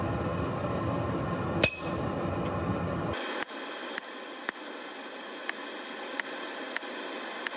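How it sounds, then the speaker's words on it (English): A hammer drives a chisel into red-hot steel to score lines on a forged leaf. Roughly seven evenly spaced, ringing metallic strikes sound close by, after a stretch of duller, rumbling noise. "what we do with the chisel right there is put those lines in it"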